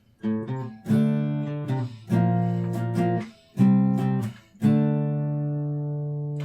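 Slow strummed acoustic guitar chords, five or six strums that each ring out, with short gaps between them, close and clear, the last chord left to fade.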